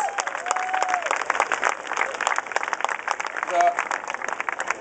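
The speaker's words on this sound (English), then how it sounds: "Give a big round of applause for these kids who are joining me behind us" An outdoor audience gives a round of applause for children at a Washington, D.C. mayoral address, brisk, crackling clapping with some cheering, fairly close, while voices talk over it and a whistle-like tone rises briefly.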